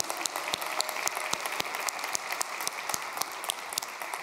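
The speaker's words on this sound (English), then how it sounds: "you can clap for everyone there" Conference attendees clap for student projects, a fairly faint spread of applause in which individual sharp hand claps stand out irregularly over a softer background patter.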